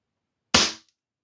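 A Feinwerkbau FWB C20 single-shot .177 CO2 target air pistol fires a pellet, giving one sharp, loud crack that decays quickly in an otherwise silent space.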